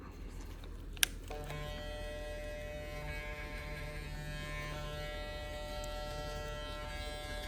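Electric hair clippers buzz steadily up close while cutting a stretch fade in a barbershop, a faint even hum after a sharp click near the start, with no speech over it.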